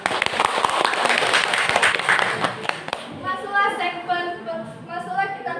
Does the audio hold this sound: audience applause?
yes